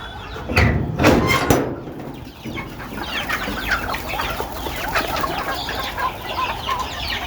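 A few sharp knocks open, then a crowd of chickens and chicks keeps up a constant, busy clucking and cheeping close by.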